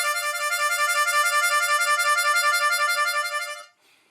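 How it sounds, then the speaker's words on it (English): A C Marine Band harmonica plays a steady warble, rapidly trilling back and forth between two neighbouring notes with a bright, reedy tone. It holds loud and even for several seconds, then cuts off, leaving only faint room tail. "That's a warble on the harmonica."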